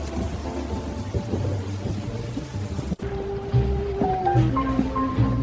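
Heavy rain pours steadily with a low rumble of thunder, a sudden sharp crack midway, then continued downpour.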